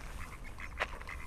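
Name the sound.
duck quacking, drake and duck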